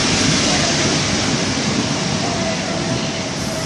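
A Greater Anglia train at Stowmarket station gives off a loud, steady rail rumble and hiss with a faint tonal whine, continuous and close, with possible voices underneath.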